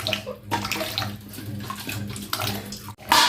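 Tap water runs steadily into a sink while dishes are washed by hand, with splashing and brief clinks of handled dishes over a short stretch.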